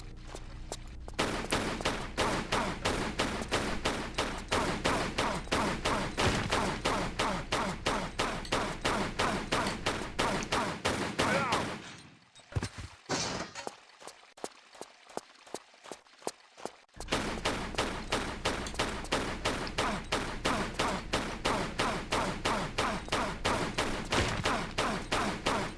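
Rapid sustained gunfire while shooting enemies in a Tomb Raider Level Editor custom level, In Search of the Lost Trident: dense, evenly spaced shots hammer on for seconds, break into a few scattered single shots and a near-silent pause, then resume at full pace.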